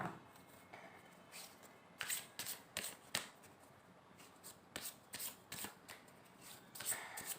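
Tarot cards are shuffled and drawn in a quiet room, producing close, quiet bursts of riffling and flicking that recur in uneven clusters, with no voices.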